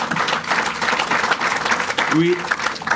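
A banquet audience at a basketball coaches' hall of fame dinner applauds the committee, a steady wash of clapping filling the room for a few seconds, with a voice breaking in briefly near the end.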